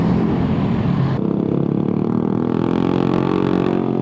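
A loud motorcycle engine, apparently an Italjet, runs at a bike meet. It starts with a harsh, raspy revving burst, then settles into a throbbing, steady idle up close.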